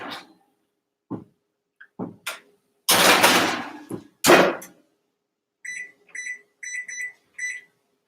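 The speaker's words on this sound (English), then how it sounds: "Oh, that's my timer." A kitchen timer goes off while Oreo cheesecake cookies bake: four quick bursts of high, bright beeps ring out alone. Loud kitchen clatter and bangs come first.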